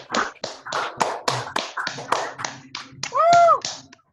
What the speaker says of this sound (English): Let's give a big round of applause, or just tap your mic